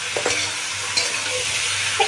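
A spoon scrapes and stirs kochur loti (taro stolons) with dried fish and fried raw shrimp in a frying pan, soft sizzling running underneath with a few sharp clinks of utensil against metal.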